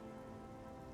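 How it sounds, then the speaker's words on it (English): Steady rain falling across a landscape in the video game Oblivion, a dense, even hiss of drops on surfaces holding at a constant level with no voices. "Oh no, not the rain."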